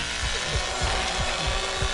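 A chainsaw in The Texas Chainsaw Massacre video game roars continuously and loud, with rough, grinding rasps pulsing through the steady engine noise.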